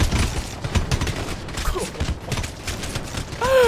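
Bursts of rapid automatic gunfire from the GTA video game, played on a Midnight Club server, clatter close and loud in quick volleys, with a few whooshing game effects near the end.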